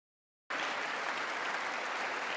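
Applause from an audience during a speech bursts in abruptly after a moment of silence, a dense, steady wash of many people clapping that carries on at full strength.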